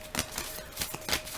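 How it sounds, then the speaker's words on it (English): Tarot cards being shuffled by hand, a run of soft papery riffles and taps in irregular bursts over a faint steady hum, close and without speech. "I usually do not shuffle cards on camera."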